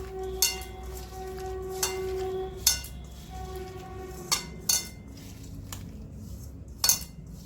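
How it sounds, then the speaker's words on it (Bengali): Potato and egg being mixed with mustard oil and Kashmiri chilli in a bowl: a spoon scrapes and clinks against the dish in sparse, sharp taps with a faint ringing tone, close by and quiet. "সর্ষে তেল দেবো এটাকে ভালো করে মেখে নেব"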